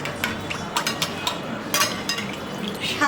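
A spoon stirs boiled, rinsed sabudana for a cool sweet dessert, giving soft wet squelches and light scrapes against the bowl in irregular strokes, close and moderately quiet.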